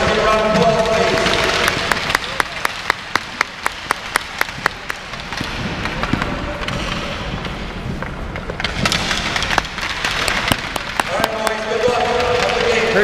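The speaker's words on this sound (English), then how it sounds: "Give a round of applause" Audience applause at the ice hockey league finals of the Sport Corner Siam Hockey League: a steady wash of crowd clapping with sharp, louder individual claps scattered through it, swelling again near the end, with voices mixed in.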